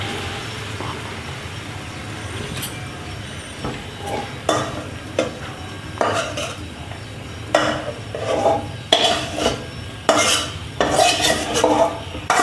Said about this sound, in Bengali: এইবার এই যে সবজিগুলো রয়েছে তার মধ্যে আমি মাংসটা দিয়ে দিচ্ছি